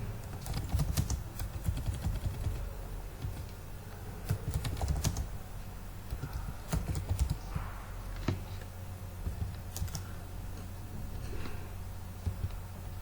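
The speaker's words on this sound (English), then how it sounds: "I'm going to type motion estimation" Someone types on a computer keyboard, entering a search, with steady rapid key clicks in bursts and brief pauses. The keys are close and moderately loud, and there is no talking.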